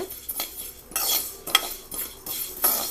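Rice dry-roasting in a pan for thiruvathirai kali, grains nearly cracking, with a spoon scraping and clinking against the metal in irregular strokes and light rattling bursts, close and fairly quiet.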